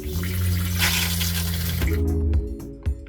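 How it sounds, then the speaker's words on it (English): Cold water from a faucet in a 2001 Peak Manufacturing Kodiak VXL2000 Class B Plus motorhome runs with a steady close hiss, then cuts off abruptly, followed by a couple of small clunks. "I'm going to show you the cold water"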